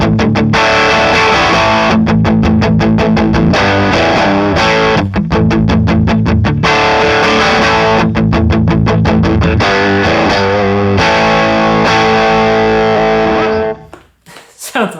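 Electric guitar through a Pettyjohn Electronics Iron MkII Deluxe overdrive pedal plays loud distorted chords with rhythmic chugging stretches, steady and close, before cutting off near the end.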